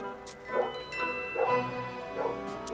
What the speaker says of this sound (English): And that's my dog again.